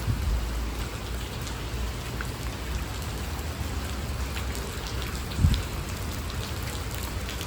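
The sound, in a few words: rain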